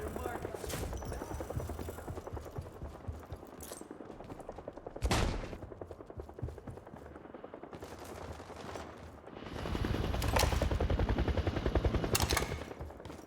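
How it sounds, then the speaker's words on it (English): Sustained bursts of automatic gunfire and heavy weapon fire in a shooter video game, a helicopter overhead, with sharp loud blasts punctuating a dense rattling barrage. "God, I forgot how annoying that helicopter is."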